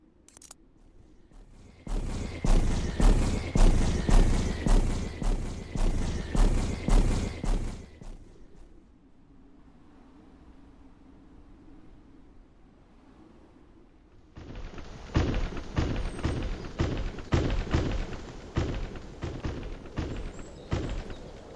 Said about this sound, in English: right click and then the gun will begin to fire all the mines